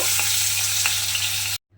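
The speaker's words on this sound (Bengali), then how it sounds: "আবারও কিন্তু আমি অন্য মাছগুলো তেলের মধ্যে দিয়ে ঠিক একইভাবে ভেজে নেব" Pomfret fish sizzle in hot oil, a loud continuous crackling fry with a few sharper pops, cutting off abruptly near the end.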